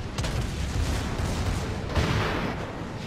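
A battleship's secondary battery guns fire in World of Warships, the Bismarck's repeated booming shots blending into a continuous rumbling barrage with a few sharper bursts standing out.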